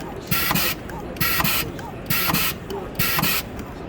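A SLICE 230 programmable cutting machine works through a batch, cutting pieces from a stick and reloading, with four evenly spaced bursts of loud hissing, rattling cuts alternating with quieter clattering mechanical loading.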